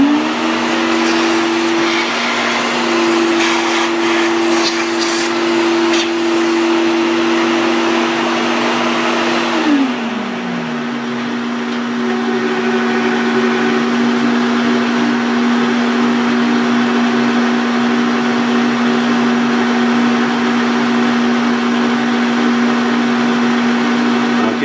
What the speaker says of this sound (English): Vacuum and see what we got.